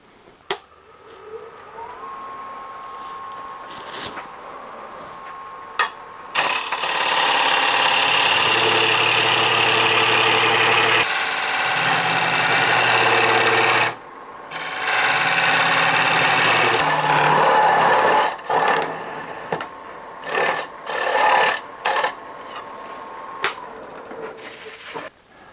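A wood lathe rough-turns a cherry bowl, with steady motor hum and loud, sustained scraping and whining bursts as the tool cuts the wood, then a stretch of shorter intermittent cuts.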